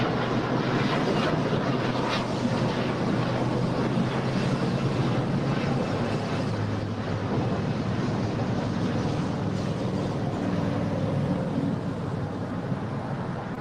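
A jet takes off on runway 25 right at Los Angeles International Airport, a broad, continuous roar heard from a distance with wind buffeting the microphone, sustained and steady without voices.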